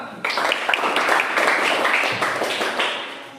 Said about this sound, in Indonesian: Silakan dulu, berikan tepuk tangan.